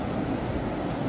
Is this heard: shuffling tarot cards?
no